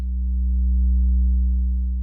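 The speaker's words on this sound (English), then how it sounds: "let's sweep our test tone" A low sine test tone played back through old analog tape holds steady and loud, with a stack of faint harmonic distortion tones above it, alone with no talking.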